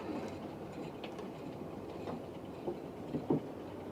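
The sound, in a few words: model train running on a model railway layout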